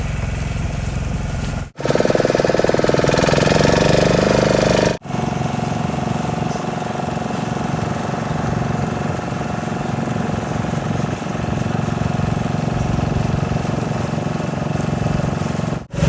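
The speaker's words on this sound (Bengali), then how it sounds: "এদিকে দেখুন প্রচুর ট্রলার রয়েছে, মাছ ধরার ট্রলার" Engines of fishing trawlers at a fishing port drone steadily and loudly at close range. The running hum is cut by two brief gaps, and a harsher, louder stretch comes between them. No one speaks.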